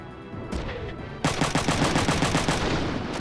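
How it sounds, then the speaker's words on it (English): Machine gun fire in the video game Front Mission 3: a short lead-in, then a loud rapid burst of evenly spaced shots hammering steadily for about two seconds, close and alone. "machine guns have terrible accuracy from far away"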